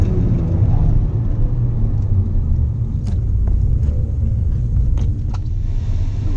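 A Mazda MX5 race car drives a sprint track, its engine rumbling loudly and steadily from onboard, with occasional sharp clicks and knocks over the drone.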